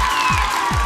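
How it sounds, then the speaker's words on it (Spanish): Live comedy show crowd claps and cheers loudly throughout, a dense steady wash of applause with a couple of low thumps underneath. "Todo aplaudiendo."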